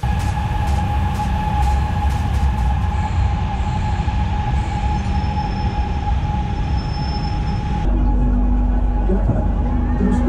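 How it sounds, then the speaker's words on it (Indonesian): Ride aboard the LRT Sumatera Selatan light rail train in Palembang, a steady loud interior rumble of rolling wheels with a persistent tonal whine, the character shifting abruptly near the end as the train changes pace. "aku juga mencoba moda transportasi kebanggaan warga Palembang, yaitu LRT Sumatera Selatan"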